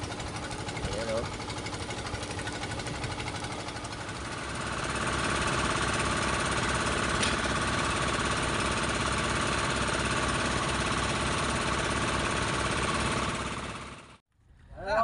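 A small fishing boat's single engine runs rough and misfires, giving a continuous uneven chugging drone close by for most of the clip before it cuts out near the end.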